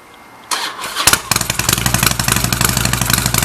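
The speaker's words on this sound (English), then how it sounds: "You can see here this motorcycle. I'm going to start it up for you to see the turnkey ability." A Harley-Davidson custom motorcycle starts up, with a starter whir followed by the engine catching and settling into a loud, rapid, throbbing idle close by.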